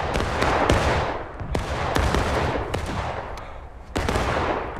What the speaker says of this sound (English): there's so much bullets landing around all over